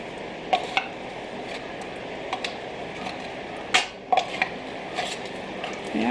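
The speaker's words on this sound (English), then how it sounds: "I just need to simmer this so it's all warmed all the way through" Bacon bits and keto supper warming through in a pan on a home stove, a soft steady sizzle with occasional clinks of a utensil against the pan, no talking.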